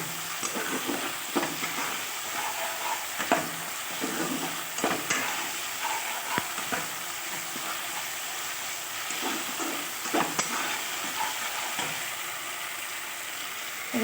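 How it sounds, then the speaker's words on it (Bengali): A spice masala with ginger, garlic and tomato paste fries in a pan for a Bengali egg curry, giving a constant moderate sizzle with scattered scraping stirs close by and no speech. "এবার সব রকম মশলা একসঙ্গে ভালোভাবে কষিয়ে নেব"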